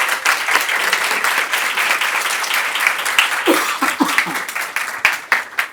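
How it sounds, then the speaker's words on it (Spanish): An audience applauds at a human rights event on strengthening the Inter-American human rights system, with steady dense clapping throughout and some louder individual claps and faint voices toward the end. "y quiero pedir un aplauso en agradecimiento."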